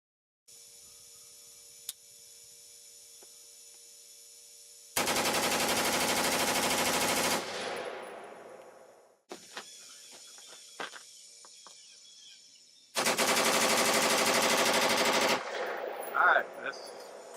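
An AR-15 rifle with a hybrid direct impingement system firing rapid bursts from a magazine, two long loud strings of shots separated by quiet gaps with faint metallic clicks, and a ringing trail after each burst.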